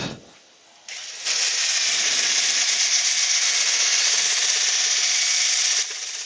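Power sanding of a walnut bowl spinning on a woodturning lathe, a steady high whooshing hiss that starts after a quieter moment and runs loud and continuous before easing slightly at the end.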